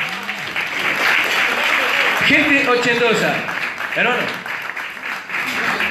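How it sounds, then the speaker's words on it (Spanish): Audience applause breaks out at a live anniversary marathon show, clapping sustained beneath someone talking loudly over it. "El aplauso para el hermano"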